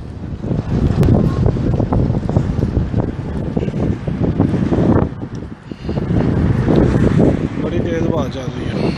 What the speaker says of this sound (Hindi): बड़ी तेज हवा चल रही